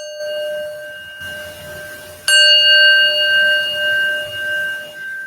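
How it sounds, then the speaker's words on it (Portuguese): A hand bell rung to signal the start of a theatre reading gives one bright struck ding with a clear ringing tone that decays slowly over several seconds, heard alone against faint room noise. "Cadê o sino para iniciar a leitura?"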